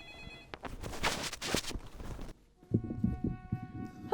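A telephone rings for an incoming caller, sounding as short electronic bell bursts alongside other clattering sounds, close and moderately loud.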